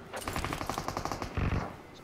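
A Bizon submachine gun fires in a video game: a fast, evenly spaced burst of loud, close shots for about a second, followed by a heavier thump and a fading tail.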